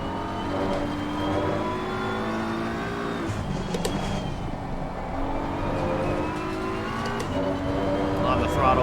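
Race car engine in the sim racing game Assetto Corsa Competizione, droning and revving steadily through gear changes for about nine seconds, loud and continuous, with someone talking over it.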